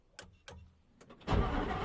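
An Audi R8 ABT XGT street-legal race car fires up after a few short cranking clicks, catching into a loud, dense engine roar close by, with no talk.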